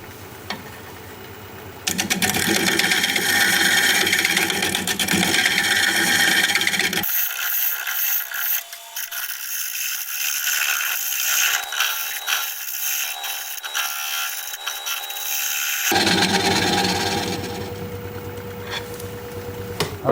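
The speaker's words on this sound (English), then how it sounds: "I'm going to do some shear scraping here." A tool is shear scraping a wood turning on a lathe. The rubbing, scraping drone is loud and continuous, and its texture shifts partway through as the cut changes. No speech is heard.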